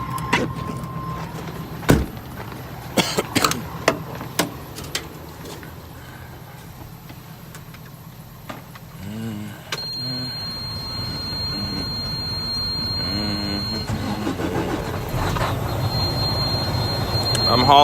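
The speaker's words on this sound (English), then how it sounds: "Just got to get this truck started." A truck engine runs in a steady loud rumble with a high whine, after scattered knocks and clatter in the first seconds.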